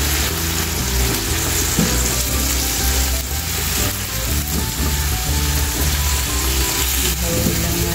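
Boiled beef drops into a hot pan and fries, giving a loud, continuous close sizzle and crackle that lasts throughout, without talk.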